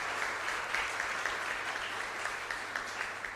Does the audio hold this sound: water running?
no